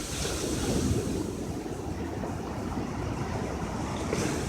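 Large ocean waves break and wash steadily onto a beach, a continuous loud roar of surf with gusts of wind across the microphone and no voices.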